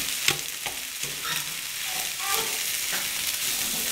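Fava beans and corn are stirred in a frying pan with eggs and vegetables, a steady sizzle broken by scraping spoon strokes at close range.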